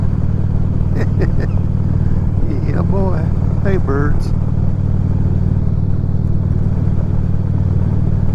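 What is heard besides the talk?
motorcycle riding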